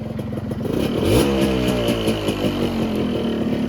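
A Suzuki Sprinter motorcycle engine running up close, a loud steady rattling idle with a brief rev near the start, with no talk over it.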